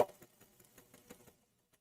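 A sewing machine stitching a curved quilt seam in a short, fast burst of even needle clatter that fades out after about a second, with a faint tap just after.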